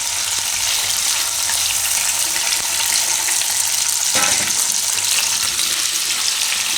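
Paneer cubes frying in hot oil make a loud, dense, continuous sizzle with a soft clack partway through, and no talking.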